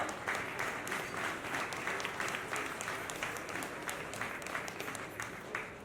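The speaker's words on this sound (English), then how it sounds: "A round of applause for my erudite father" A book-milestone event audience applauds an author's father, a thick, continuous rush of clapping from a sizable crowd, steady and somewhat distant throughout.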